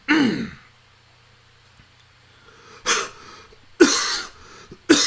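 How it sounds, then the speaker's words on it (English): A person coughs and clears their throat in a quiet room, one rough burst at the start and then three more sharp, close bursts spaced out near the end. "If I could clear my throat."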